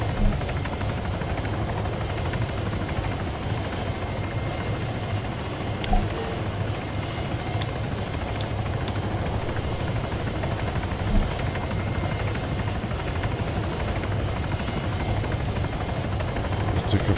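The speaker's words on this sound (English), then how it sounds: "Right, chopper." A helicopter in the Altis Life mod of Arma 3 flies steadily, its rotor and engine drone holding constant and fairly loud throughout with no talk over it.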